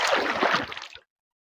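River water rushes in a steady broadband wash for about a second, then cuts off abruptly; a summer outing along a river after rain.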